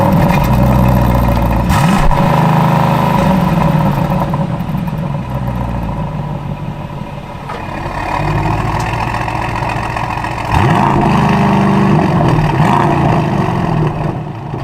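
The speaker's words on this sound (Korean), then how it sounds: "정차 시 실내로 들어오는 엔진 소리도 그렇게 큰 편은 아닙니다." An Aston Martin DBX707 engine idles with a deep, steady exhaust rumble, swelling in a few low revs before settling again, loud and close with no voices.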